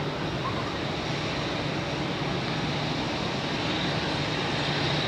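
A Turkish Airlines Airbus A330 airliner roars steadily close to the runway at Zurich airport, a loud continuous engine rumble heard from an observation deck.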